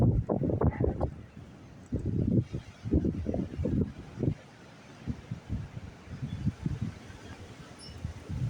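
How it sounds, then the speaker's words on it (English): Strong wind gusts during an Oklahoma wind storm, with gusts reaching the 60s mph, buffet the microphone outdoors in repeated rumbling surges, rising and falling every second or so and loud against a quieter steady rush. "And the winds keep on raging."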